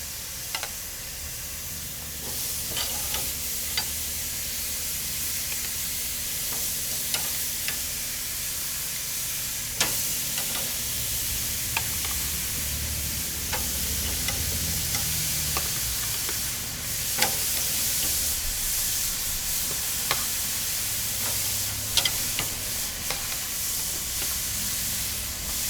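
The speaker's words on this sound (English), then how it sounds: "we got the grill warmed up to temp. I'm going to start putting these ribs in." Kalbi short ribs sizzle on a warmed-up grill, a steady, loud, continuous hiss with scattered pops and crackles across the whole stretch.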